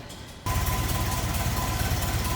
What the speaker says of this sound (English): I turned up the idle just a tad.